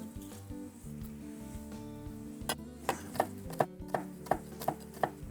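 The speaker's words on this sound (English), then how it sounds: "Some of the chocolates, which I'll just roughly chop." A knife roughly chopping chocolate on a board, close and clear, with scattered cuts at first and then a steady run of sharp regular chops.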